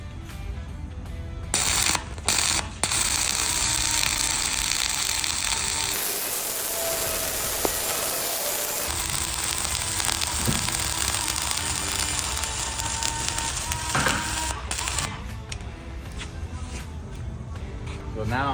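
An angle grinder dresses a guideline on a 3G flux-core weld test plate, then a flux-core cap bead is run, the steady crackle and hiss of the arc filling most of the span at close range without talk.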